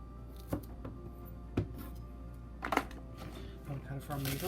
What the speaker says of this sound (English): We cut the root off.